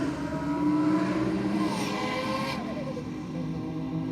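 Engine roar from a Lamborghini and a Mazda RX-7 FD drag racing at Sydney Dragway, a loud sustained rush with rising revving tones as the cars pass.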